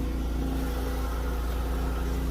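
Pontiac Bonneville SE engine idling steadily with the car started, a continuous low hum with a faint mid-range whir running evenly throughout, no voices.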